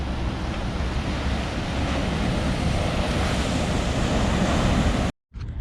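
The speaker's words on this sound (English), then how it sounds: "Very turbulent sea, and some of the waves are actually breaking 200, 300 meters offshore." Turbulent sea with waves breaking offshore near Portixol, a continuous heavy roar of surf with wind buffeting the microphone, cut off by a brief gap near the end.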